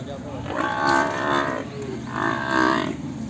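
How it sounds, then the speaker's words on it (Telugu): A Jafarabadi buffalo calf moos twice at a busy cattle market, each low drawn-out call lasting about half a second, close and loud above a steady hum of background crowd noise. "జాఫరాబాద్ దూడ."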